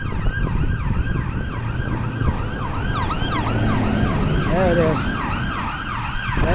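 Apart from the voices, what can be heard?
ambulance siren passing in the street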